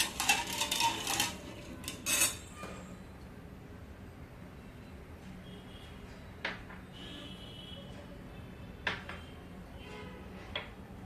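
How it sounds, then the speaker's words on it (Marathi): A spoon stirring sugar into milk in a pot for basundi, with a busy scraping clatter at first, then sparse light metallic clinks against the pot in a quiet room. "ही साखर बारीक विरघळेपर्यंत आपण ह्याला हलवत राहायचं आहे"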